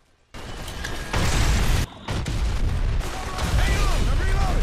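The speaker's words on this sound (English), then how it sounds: "the only sound in the game I thought sounded cool was the grenade explosion" Grenade explosion from the video game Blacksite Area 51: a loud, dense burst of rumbling, crackling noise that swells after a brief gap, mixed with other gunfire-like game sounds and sustained booming.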